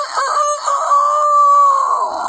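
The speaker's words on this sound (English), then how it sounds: "And then the rooster in the morning." A rooster crows in one long, drawn-out call that rises and holds steady, loud and close, with no other sounds around it.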